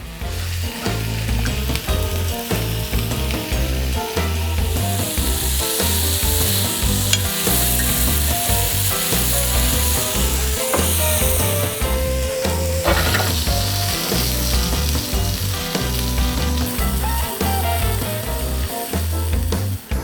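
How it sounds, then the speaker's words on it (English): Steak sears in a pan held over hot campfire coals, with a loud, continuous sizzle and spattering crackle that runs unbroken, plus faint scraping of meat being moved, and no voices. "So we hold it over the hot coals until we get a nice sear on the pan."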